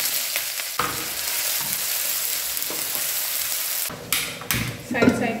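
Cumin seeds and onion frying in a pan make a continuous close sizzle, with a few stirring clatters and a sharp burst of louder crackling near the end.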